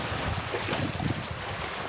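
Steady, strong wind roars and buffets the microphone outdoors on a windy, sunny day, producing broad continuous rushing noise with gusty swells and no voices.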